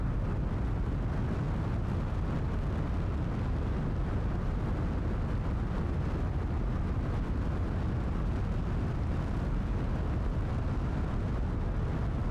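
A rocket blowing up in the video game Kerbal Space Program 2, heard as a steady, loud roar of dense rumbling noise with no talk over it.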